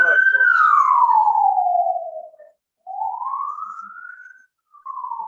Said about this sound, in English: these ambulance sounds and all are quite disturbing.